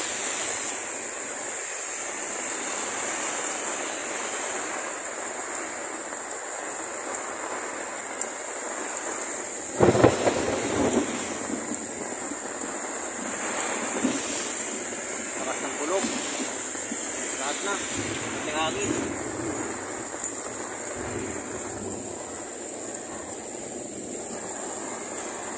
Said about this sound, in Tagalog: nabutan tayo ng ulan dito sa team natin